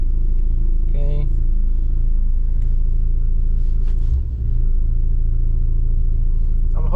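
A steady low rumble fills the cabin of a Mazda RX8 with a Mazdatrix short-throw shifter as it drives in third gear with the window down, with brief voice sounds near the start and end.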